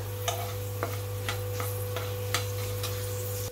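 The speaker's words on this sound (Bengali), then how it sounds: "এবার আমি দিয়ে দিলাম একটু মেথি ফোড়নের জন্য" Fenugreek seeds sizzle in hot oil as a tempering for a green pumpkin dish, a steady low frying hiss broken by a few faint ticks and stirring taps.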